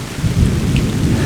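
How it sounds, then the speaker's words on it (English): A wilderness thunderstorm: heavy rain pours steadily while low, rolling thunder rumbles loudly underneath, with no voices present. "This storm's coming in pretty good now. A lot of big lightning bolts"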